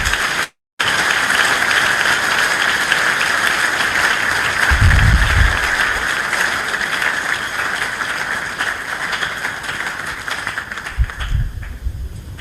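An audience applauds steadily at a talk by Charles Onana at UNIKIN in Kinshasa, a dense, continuous wash of clapping that holds loudly for the whole stretch, with a brief gap near the start.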